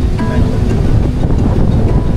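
A powerful, steady gale roars across a campsite overlooking a lake in Tanay, Rizal, heavy low buffeting on the microphone without pause.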